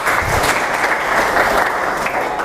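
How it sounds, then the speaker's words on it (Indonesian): Students applauding a classmate in a university geology lecture, a loud, steady patter of many hands clapping together without any talking. "Oke, kasih tepuk tangan dulu temennya."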